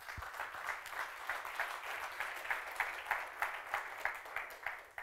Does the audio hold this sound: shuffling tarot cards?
no